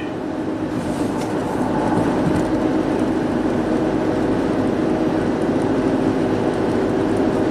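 A Nissan Rogue in 4th gear with loud tire or wheel bearing noise, heard as a steady, loud low rumbling drone that holds constant throughout, with no talk.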